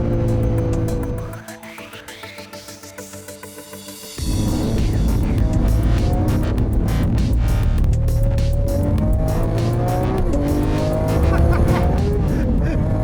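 A Lamborghini Aventador S on a wet race circuit, its loud engine rising through the revs with gear changes, then roaring on at full throttle with steady tyre and spray noise throughout.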